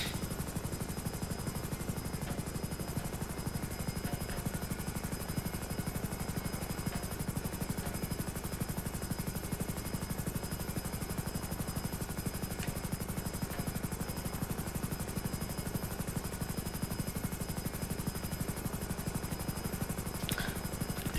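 A helicopter in a police roleplay video game lifts off, its rotor chop a constant, dense thrum that holds at an even level throughout, with a faint high whine above it.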